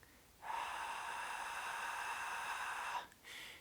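A long, steady out-breath from a breathing exercise for children, a breathy hiss held for about two and a half seconds, close and fairly loud, followed by a shorter breath.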